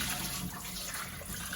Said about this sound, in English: just rinse it one more time